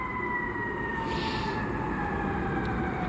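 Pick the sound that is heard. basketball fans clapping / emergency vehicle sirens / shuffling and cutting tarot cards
emergency vehicle sirens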